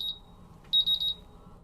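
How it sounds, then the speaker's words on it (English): A MultiRAE gas detector in alarm during a bump test gives a short, shrill beep, a pause, then a quick run of rapid high beeps in a quiet room. "all the sensors are in alarm and all the alarms are functional on the instrument"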